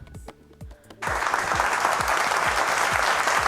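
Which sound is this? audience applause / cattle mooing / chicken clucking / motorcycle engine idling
audience applause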